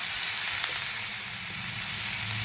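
Boiled jackfruit with chopped tomato, sautéing in hot oil with salt in a pan, giving a steady, close sizzle and frying hiss with faint stirring scrapes throughout.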